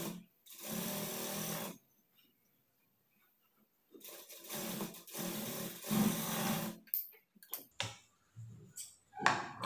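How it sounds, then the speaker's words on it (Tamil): A sewing machine stitches a half-inch seam along the front neck of a princess cut blouse with lining. It runs in several distinct bursts separated by short pauses, close and fairly loud, with no talking. "ஃப்ரண்ட் நெக் மட்டும் வந்து 1/2 இன்ச் அளவுக்கு தையல் போட்டுக்கலாம்"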